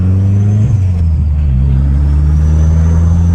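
A 600 BHP Audi TT MK1 with a 2.1-litre stroker engine and big turbo at 30 psi boost pulls away, a loud, close, steady low drone that holds without pause.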